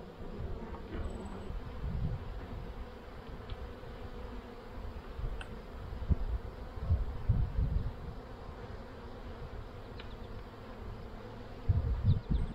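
Calm honey bees droning steadily in an opened hive during a late-summer inspection of a split colony, a dense continuous buzz with low rumbling handling noises and no speech.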